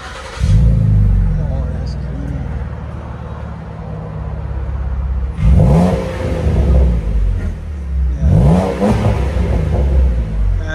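A V6 engine fitted with an exhaust using Natami resonators revs hard in repeated bursts, deep low rumbling swells rising and falling, loud and close, with no voices over it.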